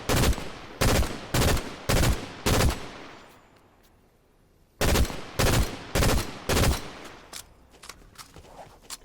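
Fortnite gunfire in close bursts of sharp rapid shots, two clusters of several loud cracks separated by a quiet pause, with softer game movement sounds trailing off at the end.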